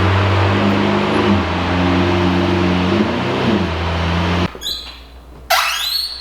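A wrapped Lamborghini Aventador idles with a deep, droning engine note as it rolls into a garage, then cuts out, followed by a couple of sharp mechanical whirs and clunks.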